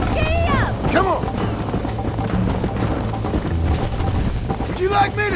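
Horse hooves galloping in Red Dead Redemption, a steady fast clip-clop that runs the whole time under game dialogue, with a horse whinny near the start and again at the end.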